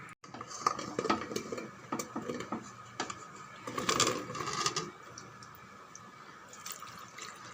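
Water splashes and trickles into a metal pressure cooker holding lentils, vegetables and tomatoes, with clinks and knocks of cookware, uneven bursts rising in the middle before tapering off.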